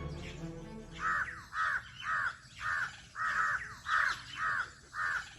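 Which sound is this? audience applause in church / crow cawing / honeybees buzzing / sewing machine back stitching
crow cawing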